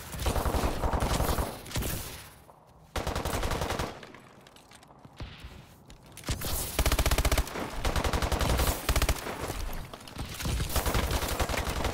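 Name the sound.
gunfire from a video game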